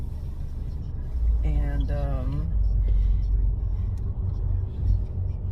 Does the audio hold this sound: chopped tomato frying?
no